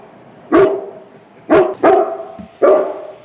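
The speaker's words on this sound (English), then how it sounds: "That's the attack dog." A dog barks four times outdoors at a camp, each sharp, loud, close bark spaced about a second apart with a short gap between the second and third.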